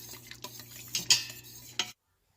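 A spoon quickly mixing a creamy pepper and tomato sauce with parsley in a pan: a few light clinks and wet stirring scrapes over about two seconds, then sudden silence.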